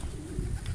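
Pigeons being fed outdoors, with a steady, close cooing and soft fluttering bird sounds that continue without a break.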